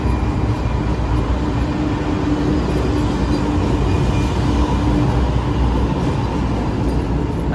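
A Czech České dráhy train rumbles at a station with a loud, close, continuous low drone and a faint steady hum above it, and no voices.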